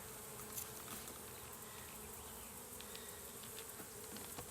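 A honeybee swarm hums in a steady, faint buzz while it is being hived, a continuous drone of many wings without pauses.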